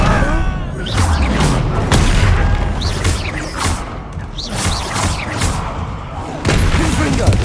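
Bombarda blasting spells explode during a Hogwarts Legacy battle: several heavy booms and crashing impacts in quick irregular succession, loud and close, mixed with battle noise and shouted voices.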